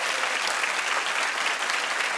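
A talk-show studio audience claps in a dense, even burst of applause, loud and sustained for about two seconds without a break.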